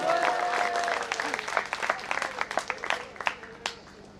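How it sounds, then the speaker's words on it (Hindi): Applause from the audience at the closing night of the Dwarahat Ramlila, honouring the performers: a dense patter of clapping with sharper individual claps standing out as it goes on, fairly close, with a faint tone and some voices underneath. "इसलिए बहुत जोरदार तालियां बजाएंगे, इनका मनोबल हम यहाँ से बढ़ाएंगे"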